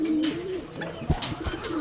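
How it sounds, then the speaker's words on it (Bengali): Soft, low coos from male Giribaz pigeons repeat in rolling phrases, close by, with a few brief clicks and rustles between calls. "সাধারণত কবুতর যেই নরগুলো থাকে ওগুলো কিন্তু ঘুরে ঘুরে ডাকে"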